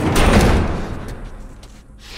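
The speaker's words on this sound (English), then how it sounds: "Barricade the door." A heavy door is shoved shut and braced in the video game The Last of Us, a loud scraping slam fading into a few lighter knocks and thuds.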